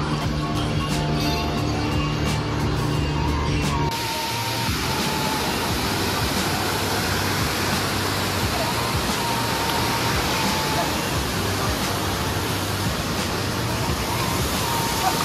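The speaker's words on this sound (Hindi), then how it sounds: "इतना लंबा झरना" Steady, roaring rush of a tall waterfall on the Kedarnath trek, a dense continuous hiss that fills the whole clip, with a brief hum of other noise at the start.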